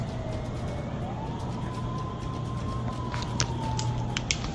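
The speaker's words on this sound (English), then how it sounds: "he hears an ambulance pull up to the defunct hospital" An ambulance siren wails, sweeping slowly up and down over steady traffic rumble, moderately distant, pulling up to a defunct hospital, with a few sharp clicks near the end.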